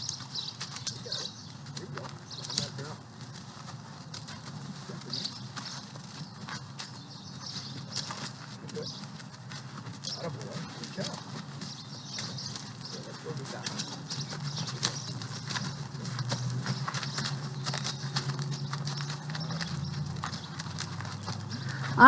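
Ranch horse worked in circles in an arena, a soft continuous patter of hooves on ground, moderately distant, with quiet talk occasionally over it.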